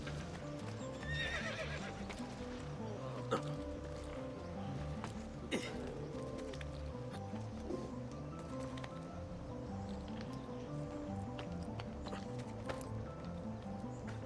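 Horse in Assassin's Creed 2 with steady clip-clop of hooves at a walk and a neigh or whinny early on, over soft ambient rustle, moderately close and alone without talk.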